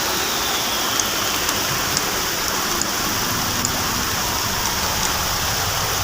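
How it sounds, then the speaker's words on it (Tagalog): Heavy rain pours down outdoors in a loud, steady, dense hiss, with occasional faint drips and taps on nearby surfaces. "Biglang bumuhos yung malakas na ulan."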